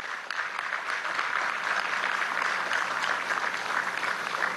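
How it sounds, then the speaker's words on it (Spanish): A crowd at an outdoor fair in a park in Caracas applauds steadily, a moderate, even patter of many hands heard from some distance. "Aplausos a Cuba"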